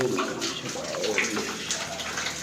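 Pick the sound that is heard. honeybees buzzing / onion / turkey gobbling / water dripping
water dripping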